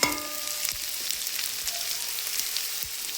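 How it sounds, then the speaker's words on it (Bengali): Tomatoes fry in a pan for a fish and taro curry, with a steady, close sizzle and faint stirring scrapes, no talk over it. "টমেটোগুলো দিয়ে আমি আস্তে আস্তে ভালো করে ভেজে নিলাম"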